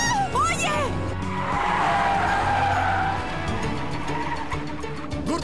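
Tires squeal and skid as a car tears away during a movie chase, a loud screeching sweep amid roaring engine noise, with shouted voices cutting in at the start.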